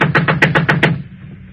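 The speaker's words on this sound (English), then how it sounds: "Knock again." Seven quick, evenly spaced knocks rap on a door in an old suspense radio drama, loud and close, then stop.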